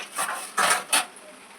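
A metal plate is handled and tipped over while turning out freshly cooked sweet corn samosas, giving three short clattering scrapes close by in a quiet kitchen.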